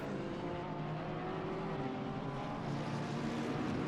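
A jet aircraft passes over the Oulton Park racetrack as a steady, broad, loud roar that holds even throughout, heard alone with no voices.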